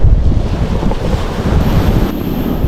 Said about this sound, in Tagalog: grabing hangin